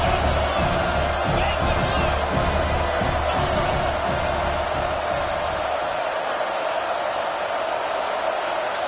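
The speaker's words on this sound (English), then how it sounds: "And with this place rocking, the crowd forces a false start." A packed stadium crowd roars steadily during a tied, late-game football moment on fourth down, a dense, loud and unbroken wall of cheering.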